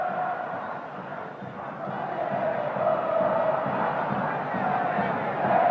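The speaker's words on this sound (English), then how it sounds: "Boca is the cry, and the crowd really getting behind their team and warming to this one" A large football crowd at a Boca Juniors–River Plate Superclásico chants "Boca" in a sustained, rolling roar that swells slightly, a dense wash of voices filling the stadium.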